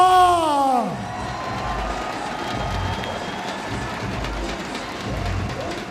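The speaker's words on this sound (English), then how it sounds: "the beautiful crowd keeping the noise happening" Large outdoor crowd at a BMX freestyle park World Cup event cheering and whooping, a loud tonal burst at the start dropping into a steady roar that continues.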